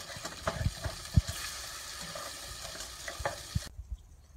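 Liquid being stirred slowly into flour in a pan to make gravy, soft scraping and sizzling with scattered clicks of the utensil, quiet and close, no voices.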